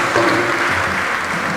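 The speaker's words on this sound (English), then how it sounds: "Please let's give them a round of applause and also clap to thank our President" A large conference audience at a New Year school gathering breaks into a round of applause, a dense, loud, steady wash of clapping filling the hall with no distinct voices.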